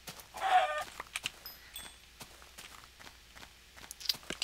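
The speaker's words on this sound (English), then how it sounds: "There's another chicken somewhere around here." A Minecraft chicken gives a short burst of clucking near the start, amid a steady run of light blocky footstep clicks and faint game ambience.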